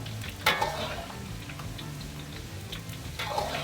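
Rare beef is stir-fried in oil in a wok until its moisture cooks off for a Sichuan dry-fried dish, giving a steady soft sizzle with occasional sharper crackles and light scraping ticks.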